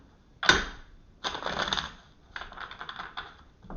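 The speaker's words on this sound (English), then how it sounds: "let me shuffle them one more time" Close, papery riffling bursts of tarot cards being shuffled, three quick rounds in a row with brief pauses between.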